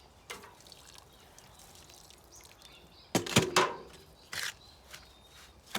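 Water poured and sprinkled by hand onto dry sand to make it stick together, heard as a few short splashing bursts and trickles against a quiet background, fairly close and soft, with no voices.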